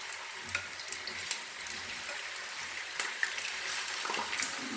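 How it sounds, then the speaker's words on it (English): Potato slices for tortilla de patata fry in oil with a soft, steady sizzle, close but fairly quiet, broken by a few small pops and clinks, with no voices. "At the moment, I'm only going to fry half of the potatoes."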